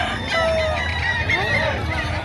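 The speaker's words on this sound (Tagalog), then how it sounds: "Isang stag ang hawak ni Bossing." Rooster crowing at a livestock market, a stag over a year old, heard as a drawn-out call amid steady crowd and market noise with other fowl.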